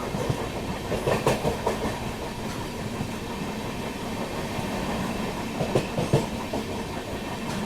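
Netaji Express running steadily on the approach to Kanpur, skipping Panki Dham station, with a continuous rolling rumble and clickety-clack of wheels over rail joints, louder bursts of clatter near the start and toward the end.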